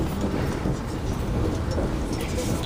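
A passenger train rolls along the rails with a dense, continuous low rumble and rattle heard from inside a car, steady throughout, with faint speech beneath the noise.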